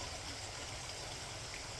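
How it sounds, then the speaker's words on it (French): Small stream flowing outdoors with a little wind, a steady faint wash of trickling water with no breaks and no voices. "le bruit d'un petit ruisseau"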